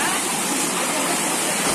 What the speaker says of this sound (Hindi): और ये रहा झरना